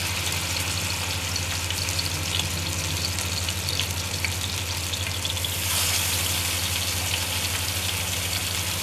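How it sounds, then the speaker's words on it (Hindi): Chapli kebabs frying on a tawa griddle over a low flame, a steady close bright sizzle with faint spatters that swells slightly louder partway through. "अब ये कबाब जो है ना मैं इसमें डालती हूँ तवे के ऊपर"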